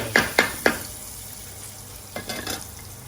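Garlic frying in oil with salt and fenugreek leaves, three quick sharp sizzling stirs at the start, then a quiet low sizzle, then another short burst of stirring near the end.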